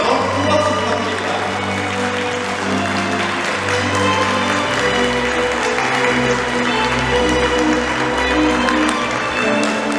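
A big round of applause fills a wedding ceremony, steady dense clapping from a crowd of guests over soft instrumental music, even in loudness from start to finish.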